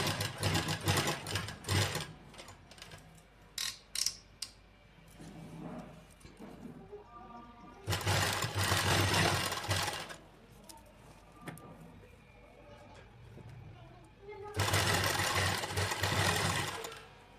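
A sewing machine stitches gathered lace onto fabric in three bursts of rapid, close mechanical whirring and clattering, with quieter handling clicks and fabric rustling between runs.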